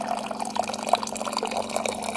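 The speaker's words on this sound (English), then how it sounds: "Water going in." Two cups of hot water pour steadily into a bowl with a continuous splashing, trickling texture, close by and fairly loud throughout.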